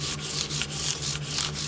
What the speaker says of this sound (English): I just lightly scuff with the length of the fretboard